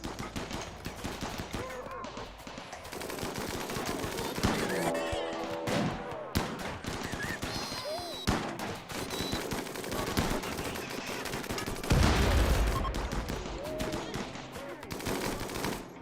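Video game gunfire, including a sniper, crackles in dense rapid bursts and scattered loud shots across a busy battle, with a heavy blast near the end and voices faintly under the din.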